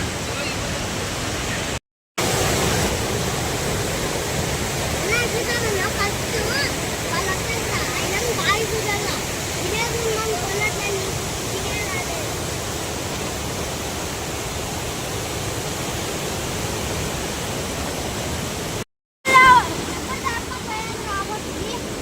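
Steady broadband rush of a waterfall hidden at a snake-mound shrine site, loud and continuous with two brief dropouts, heard from nearby.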